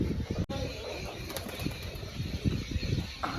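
A hand-colored pigeon beats its wings as it is let go, a close fluttering flurry of flaps over a steady background hiss.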